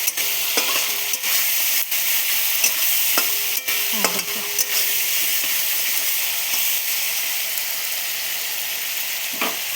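Cardamom and cloves sauté in a pan with a continuous close sizzle and hiss, and a few soft clinks of stirring cut through the frying.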